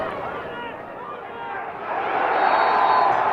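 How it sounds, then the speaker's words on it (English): Crowd noise at a college lacrosse game, BYU playing CSU, a broad wash of cheering and applause that swells louder in the second half, heard with a commentator talking over it. "And the crowd loving all the exchanges."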